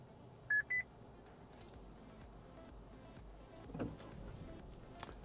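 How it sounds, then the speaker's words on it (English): A 2022 Subaru Forester's driver-assist alert gives two quick electronic beeps early, signalling the car in front has moved, then fades into a quiet, muffled cabin hum with faint rustling. "That little beep was the Subaru telling me the car in front had moved."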